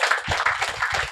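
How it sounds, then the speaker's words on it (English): A meet-up audience claps in a short burst of applause for a podcast guest, the claps dense and moderately loud throughout. "Can we give him a big round of applause?"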